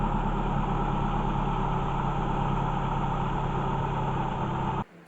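A 2008 Mazdaspeed 3 engine idles steadily with its AC compressor not turning, a close, even, low mechanical hum with no revving, stopping abruptly at the end.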